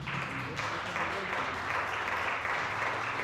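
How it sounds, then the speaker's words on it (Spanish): A church congregation applauds at a Spanish-language service, making a dense, steady wash of clapping heard from within the room, with voices murmuring underneath. "Un fuerte aplauso al Rey de Reyes."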